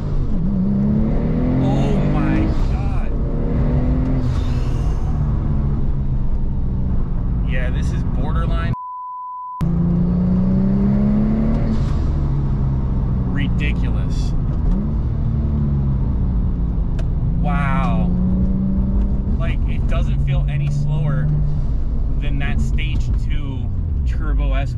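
A manual 800-horsepower Porsche 997 Turbo running 21 pounds of boost accelerates hard in first gear, its engine note rising loud and close from inside the cabin, with a short beep partway through and someone talking over it.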